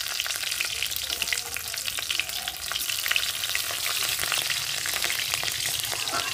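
Panch phoron and green chillies fry in hot oil, a dense, even crackling sizzle heard close and loud throughout, with fine popping spatters and no talking.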